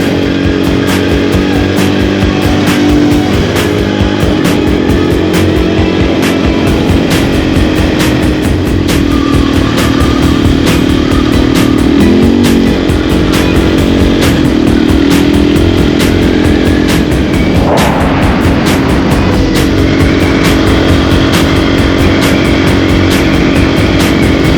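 A motorcycle rides along dirt roads in Ontario toward Peterborough, its engine droning loud and steady throughout with wind rush and slight pitch shifts as the throttle changes, heard from the rider's position with no talk.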